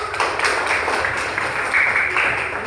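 Children clapping together in a classroom, a steady wash of many small hands over about three seconds, fairly close and even, with little talk.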